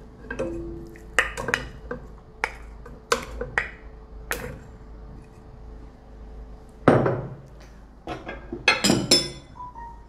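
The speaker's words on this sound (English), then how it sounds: "So I'll be putting my beef in the pot." Washed beef, stockfish and dry fish going into a pot for onugbo soup, with a scattered series of sharp clinks and knocks of metal and glassware over about ten seconds, close and moderately loud, no talking.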